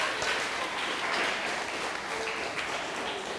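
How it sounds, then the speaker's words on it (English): Steady applause from a seated audience at a student leadership training event, a continuous dense patter of many hands clapping at moderate loudness throughout, without clear talk over it. "Everybody give Tyler and his table a round of applause."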